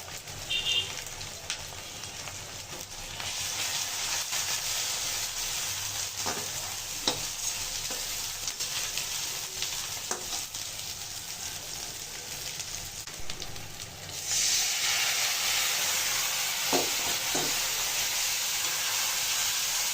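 Ground turmeric and chili powder fry with ginger paste in a hot pan for a Bengali fish curry, a steady loud sizzle under repeated scraping stir strokes, the frying growing brighter near the end.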